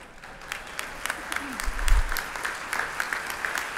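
Short burst of audience clapping at a church General Conference plenary, moderate and scattered rather than thunderous, with a voice speaking over it.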